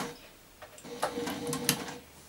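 A basic sewing machine stitches fabric for a cloth menstrual pad, a soft rapid mechanical ticking that starts up and runs in short uneven bursts, close and fairly quiet.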